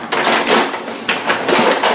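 Metal utensils clatter and rattle in a drawer, several sharp jangling bursts close by, with no talking.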